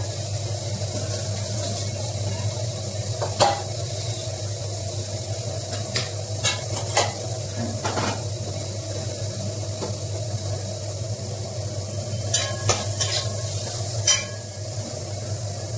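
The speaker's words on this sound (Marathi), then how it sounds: "डाळीला फोडणी देतो." Spices sizzle in hot oil while tempering dal with tomato and chilli, a steady close frying hiss punctuated by several sharp spattering pops and stirring scrapes.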